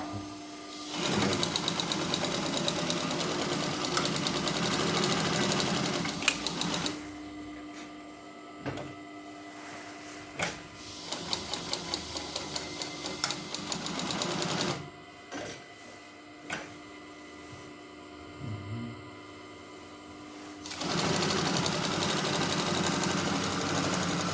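A Pfaff 335 triple-feed cylinder-arm sewing machine sews with size-40 thread top and bottom. Its steady, close motor hum and rapid needle chatter run in long bursts, broken by short pauses and a few clicks.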